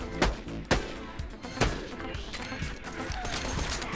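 Gunfire in the video game Borderlands 2: several sharp, punchy shots ring out at irregular intervals over a busy bed of combat noise, close and loud.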